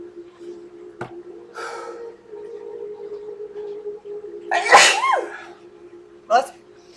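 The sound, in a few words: sneeze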